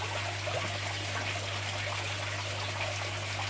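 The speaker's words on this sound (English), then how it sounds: "It's weeping out of that little cut that we left along the bottom of the filter there." Water from a shrimp tank weeping steadily through a small cut along the bottom of a filter, a soft continuous trickle close by with a low steady hum underneath and no talk.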